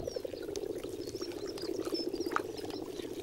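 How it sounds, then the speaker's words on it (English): Hundreds of frogs cluster at a lake's edge in the Tatra Mountains, their croaks blending into a dense, continuous chorus with faint higher chirps scattered above it. "Hundreds of frogs cluster together."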